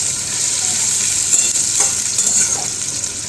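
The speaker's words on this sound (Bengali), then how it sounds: "পেঁয়াজটা ব্রাউন করে ভাজা হয়ে গেছে" Onions fry in a pan, browning with a steady, crackling sizzle and occasional stirring scrapes, close and fairly loud, without speech.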